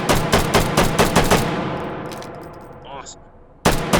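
A P762 battle rifle fires in the VR shooter H3VR, a rapid burst of sharp close shots followed by a trailing echo, a tinkling casing, and one more shot at the end; a voice speaks briefly.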